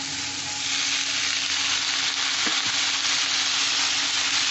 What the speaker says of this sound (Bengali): আর এইবার আমি সব সবজিগুলোই একসাথে আমি দিয়ে কষে নেব একসাথে।